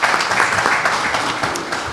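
Applause at a county council meeting, as attendees clap for national first-place award winners; close, dense clapping running continuously for a couple of seconds.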